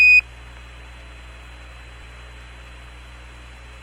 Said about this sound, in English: Houston, we got a program alarm, 1106.